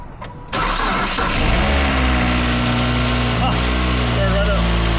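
A car engine cranks and fires on its first start, then settles into a loud, steady idle close by, with voices talking over the running engine.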